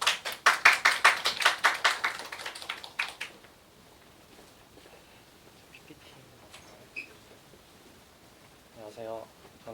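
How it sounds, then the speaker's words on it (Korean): A small audience at a university talk concert gives a short round of distinct, close claps for about three seconds before it dies away into room quiet, with a brief voice starting near the end. "큰 박수 부탁드립니다."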